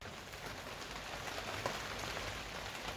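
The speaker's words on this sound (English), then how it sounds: "it's chucking it down the rain" Heavy rain pours down outdoors in a steady, dense hiss that holds at an even level throughout, with no voices.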